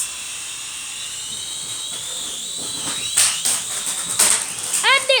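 A helicopter whines with a high, steady turbine tone and a faint rotor chop, building louder toward the end, where sharper bursts break in as if it crashes.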